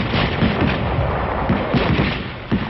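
Sustained rifle, automatic BAR and mortar fire from a WWII combat film, a dense continuous roar of overlapping shots and blasts with no pause, loud and close.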